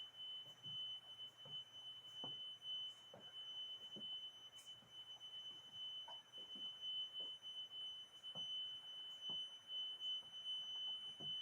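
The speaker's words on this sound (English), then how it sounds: "You can hear the alarm going off." Steady high-pitched electronic alarm beeping through the empty patient rooms of an abandoned hospital, ringing continuously throughout, with scattered footsteps and faint knocks beneath it.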